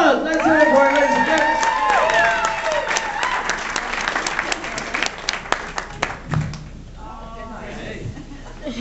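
A theatre restaurant audience in Sunderland applauds and cheers loudly after a performer's introduction, clapping steadily, then thins into scattered claps with some laughter and a voice speaking over it.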